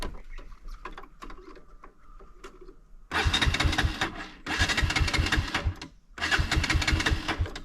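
Bajaj NS200 BS4 motorcycle being cranked with the starter after running out of petrol, several loud whirring starter bursts separated by short pauses, following quieter clicks and ticks.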